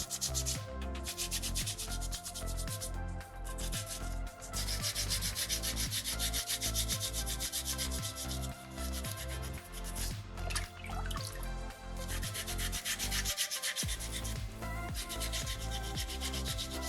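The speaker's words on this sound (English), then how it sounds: "I'm just trying to get the sandpaper to do the work for me." Sandpaper rubbing over a small soapstone shark carving, a steady close scratchy rasp in continuous back-and-forth strokes with one brief pause near the end.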